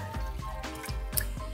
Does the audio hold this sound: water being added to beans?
yes